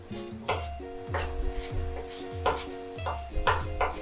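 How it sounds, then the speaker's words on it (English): A knife rocks back and forth on a cutting board to chop parsley, making repeated close thuds at a steady rhythm with faint music underneath. "I'm just going to rock my knife back and forth, get a nice chop on this parsley"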